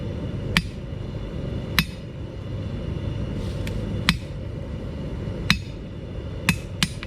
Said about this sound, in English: you're only going to hit the two sides towards the end of the anvil